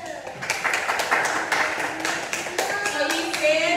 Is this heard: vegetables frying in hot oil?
no